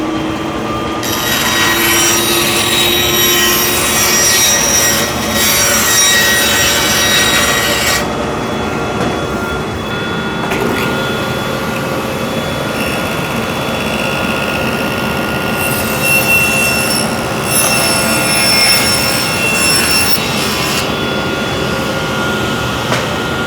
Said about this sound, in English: I can just take this over to the bandsaw, cut it off